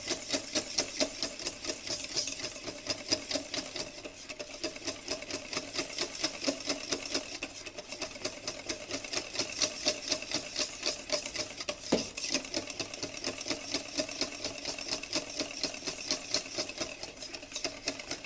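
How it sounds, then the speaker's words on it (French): A whisk beats eggs and sugar in a bowl, a rapid, continuous rhythmic scraping and ticking against the container that keeps up a steady even pace throughout, fairly quiet and with no talk. "Donc je mélange bien comme il faut au fouet."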